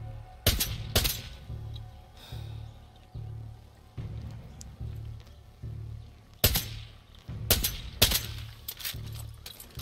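Gunfire in the video game Far Cry 6, with several sharp shots in separate bursts against a low game background hum, loud and close.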